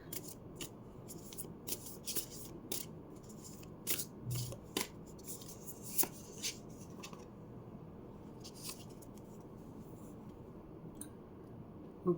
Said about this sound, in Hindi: This is the last deck which I would shuffle.